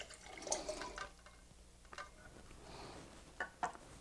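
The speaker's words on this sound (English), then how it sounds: "It's just straight out of the tap." Six ounces of tap water go into a glass for a Philadelphia fish-house punch, heard as faint, scattered splashes and drips with a few louder liquid plops among quiet gaps.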